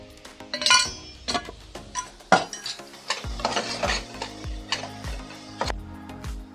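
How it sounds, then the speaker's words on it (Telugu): Spoon clinking against a pan while turmeric is added to cooking tomatoes for an aloo tomato curry, then steady stirring with repeated scraping knocks; close, moderately quiet, no talk. "1/2 స్పూన్ పసుపు వేసుకుంటున్నాను"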